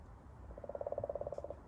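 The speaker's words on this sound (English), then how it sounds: "If you listen, that's a frog or a toad." A frog or toad calls from the back of a yard, giving one rapid pulsed trill of about a second. The trill is fairly faint and distant against low background rumble, with no talking.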